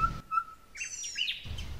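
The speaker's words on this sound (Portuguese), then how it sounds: "Quem também voltou a aparecer foi o lindo gavião asa de telha" A Harris's hawk calls in the Brazilian caatinga with a few short, thin whistled notes, fairly faint and isolated against a quiet background.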